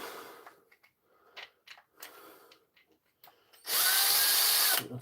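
A power drill driving a screw whines loudly for about a second near the end, preceded by quieter scattered workshop handling noises.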